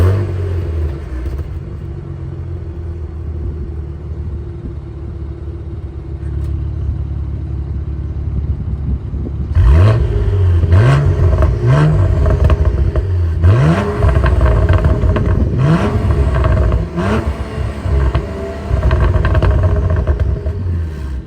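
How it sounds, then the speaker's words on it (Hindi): A 2023 Cadillac CT4-V Blackwing's twin-turbo V6 and massive exhaust idle with a low rumble, then rev hard several times in repeated rising sweeps, loud and close with no talk. "V6 ट्विन टर्बो चार्ज रह के भी काफ़ी डिसेंट इसमें इंजन नॉइज आता है"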